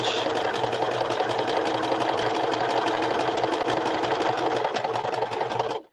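A sewing machine runs a back stitch on a fabric clutch, a fast steady rattling whir held at full pace for several seconds, close and alone, before stopping abruptly.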